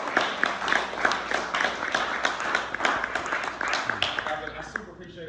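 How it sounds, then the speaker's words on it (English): An audience at a business launch meeting in Las Vegas claps in a sustained round of applause, with individual hand claps audible in the mix and voices talking underneath. "Another round of applause."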